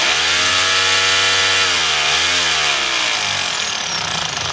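A DeWalt D25032 rotary hammer with a broken front housing runs loud and continuous, its motor whine rising and dipping in pitch as it revs, with no talk over it.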